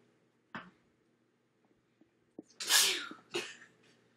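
A single loud, close sneeze with a sharp intake of breath before it, followed by a short breathy tail, amid a few soft clicks in an otherwise quiet room.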